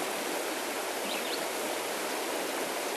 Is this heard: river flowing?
yes